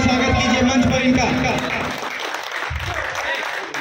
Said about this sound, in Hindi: जोरदार तालियों से स्वागत कीजिए मंच पर इनका।